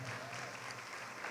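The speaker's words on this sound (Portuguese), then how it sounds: "toda a igreja tome seu assento aplaudindo a Jesus" A church congregation applauds during worship, a steady wash of many hands clapping together that holds evenly through the whole stretch, fairly faint and distant.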